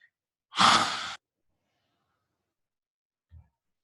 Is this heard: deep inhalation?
yes